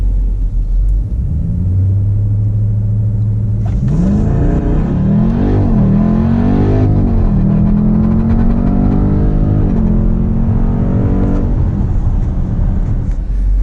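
A 2018 Dodge Durango SRT, a 500-horsepower SUV, launches hard from a standstill, its engine roaring up through the revs with a gear shift partway through, loud and close, with no talk over it.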